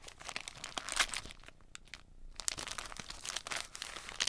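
A wrapped gift package being opened, with dense crinkling of paper and bursts of tearing, loud and close, pausing briefly midway before the ripping resumes.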